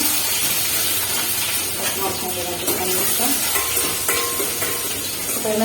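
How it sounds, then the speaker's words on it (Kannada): Ingredients frying in a pan make a continuous hiss and sizzle, with stirring scrapes and the clatter of a utensil on cookware; a voice talks over the cooking noise. "ಚೆನ್ನಾಗಿ ಫ್ರೈ ಮಾಡ್ಕೊಳ್ಳಿ ಈಗ ಒಳಗಡೆ ಹಾಕೊಂತೀನಿ ಒಳಗಡೆ ಹಾಕೊಂಡು ಚೆನ್ನಾಗಿ ಫ್ರೈ ಮಾಡ್ಕೊಬೇಕು"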